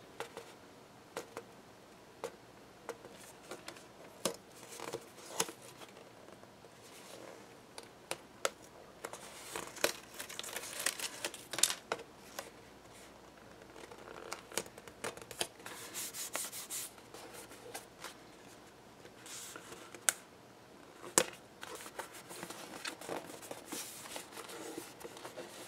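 Tape is pulled off a roll and pressed down during grandfather clock construction: quiet, close rubbing and crinkling with sharper tearing bursts in the middle and later, alone with no voices.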